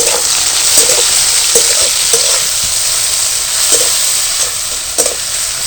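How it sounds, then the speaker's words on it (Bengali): Grated ginger and chopped tomatoes fry in a pan for a vegetarian chickpea dal curry, a steady close sizzle broken every second or so by brief scraping stirs, with no talk. "দিয়ে দেবো গ্রেট করা আদা।"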